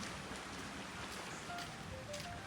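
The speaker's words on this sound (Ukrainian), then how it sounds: "бачите, все покрилося хмарками, дощиком" Steady tropical rain shower in Mauritius, a continuous hiss of falling drops filling the scene at moderate level, with a few faint tonal chirps in the background and no talk.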